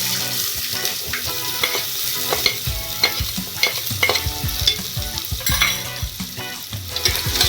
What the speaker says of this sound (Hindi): अब पहले बारीक कटा हुआ प्याज डालेंगे